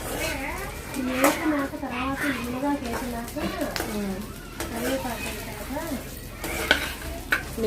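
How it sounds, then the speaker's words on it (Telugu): Red chillies frying in oil in a pan on a stove while drumstick-leaf and curry-leaf spice powder is being made at an anganwadi centre. A steady sizzle and stirring scrape run under continuous nearby speech. "స్టవ్ పైన మిరపకాయలు పెట్టుకున్నాము. కొంచెం దానికి సరిపడా నూనె వేయించుకొని"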